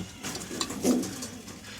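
Soft, low cooing from pigeons, including a red Surmia pigeon, in a home loft, brief and fairly faint, over a light background hum.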